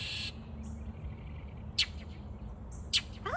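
A mockingbird gives two short, sharp calls spaced about a second apart outdoors, over a steady low background hum.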